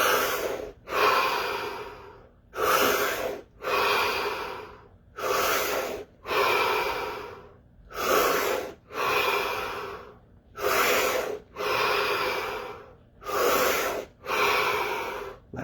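Deep breaths during a meditation session, eight slow inhale-exhale cycles of about two seconds each with brief pauses between, loud and close to the mic with no talking.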